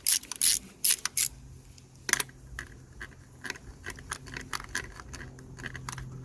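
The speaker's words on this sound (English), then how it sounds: "we're just gonna remove the bolts so that we can move the radiator forward a bit" A 10 mm socket wrench works on the radiator bolts of a Suzuki SV650 motorcycle, giving a few loud, sharp metallic clicks up close, then a looser run of small ratcheting ticks.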